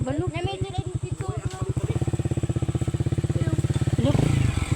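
A motorcycle on a mountain outing thumps with a rapid, even engine beat that grows louder and more continuous, with people talking at the start.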